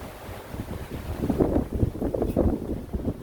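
Wind gusting through a garden with strawberries, lupins and clematis, a steady rough rush buffeting close to the microphone for a few seconds, with no talk.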